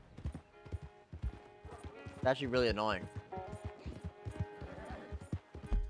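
Horse hooves clip-clop steadily in the video game Red Dead Redemption 2, close and rhythmic throughout, with a brief whinny partway through. Someone talks over the hoofbeats the whole time.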